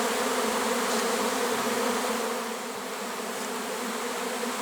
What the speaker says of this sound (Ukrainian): Здається, що рій не влазить у раєвню